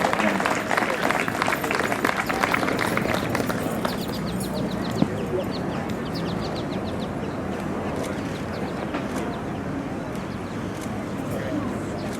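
An audience applauds the 2018 Keeneland Concours d'Elegance Best of Show winner, a steady sustained wash of clapping at moderate distance with some voices mixed in.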